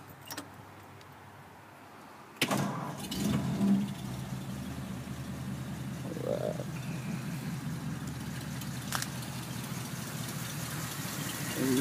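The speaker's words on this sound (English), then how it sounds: "I'll start it up for you." A 1941 Ford coupe engine cranks and catches after a quiet start, then settles into a smooth, steady idle close by.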